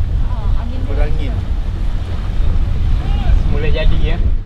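A boat ride across windy water in Johor, with a loud, steady rumble of engine and wind buffeting the microphone throughout while people talk in snatches over it.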